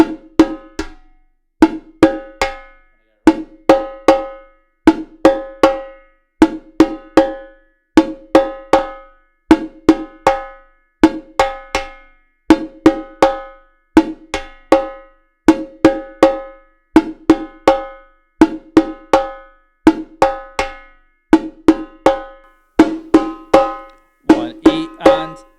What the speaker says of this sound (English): middle rim shot, middle rim shot